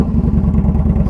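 Indian Scout Bobber with an aftermarket exhaust, nearly new at about 1,085 miles, rumbles steadily as it is ridden: a deep, loud, continuous low throb with a pulsing beat and no voices over it.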